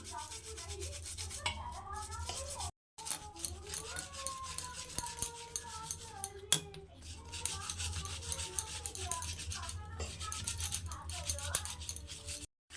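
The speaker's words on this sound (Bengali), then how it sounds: "এইভাবে আমি আবার এটাকে ডলে নেব শাখাটাকে" A conch-shell bangle is scrubbed with Colgate toothpaste in steady, gritty rubbing strokes, close and fairly loud, with short pauses between bursts and a voice talking over parts of it.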